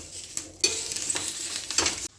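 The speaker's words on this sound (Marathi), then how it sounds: "आता तेल मस्त गरम झालेलं आहे। जिरे मोहरीची फोडणी द्यायची त्याला" Cumin and mustard seeds spluttering in hot oil make a brief burst of close, crackling sizzle with sharp pops, then cut off abruptly.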